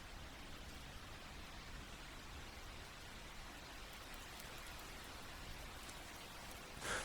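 Steady rain falls in a continuous, even hiss that persists without pause, with a slightly louder patter near the end and no voices.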